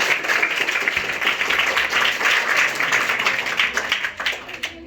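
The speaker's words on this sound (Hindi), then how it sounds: "ताली बजाइए जोरदार।" Sustained applause from an audience at a rationalist talk in Surat, Gujarat, a dense even wash of many hands clapping steadily, fairly loud and close, tapering slightly near the end.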